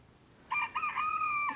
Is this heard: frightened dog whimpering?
no